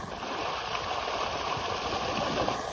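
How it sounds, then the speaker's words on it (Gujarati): Water gushes out of a full pipe after heavy rain, a steady, dense roaring rush close by with no pauses, carrying a faint underlying hum. "આમ જો મિત્રો, ફૂલ પાઇપ આવેલો પાણીનું,"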